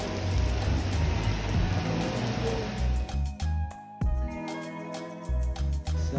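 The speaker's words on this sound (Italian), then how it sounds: "siamo arrivati a Tineo ed è riesplosa la pioggia." Heavy rain pours down steadily in the town of Tineo, a dense hiss that later breaks into irregular patters and drips on nearby surfaces.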